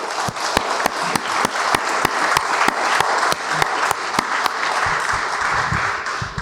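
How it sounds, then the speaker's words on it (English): An audience at an annual lecture gives a steady round of applause for a panel. The dense clapping fills the room evenly for several seconds with little talk. "can I ask you to give a round of applause for our panel?"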